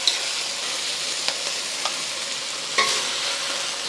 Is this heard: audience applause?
no